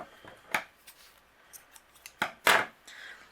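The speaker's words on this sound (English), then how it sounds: "take your twine or your baker's twine. I'm using my Simon Says Stamp baker's twine. I'm going to trim down a little piece here" Scissors snip a piece of Simon Says Stamp baker's twine in a few quick, crisp close cuts, scattered over a few seconds with faint handling rustle between them.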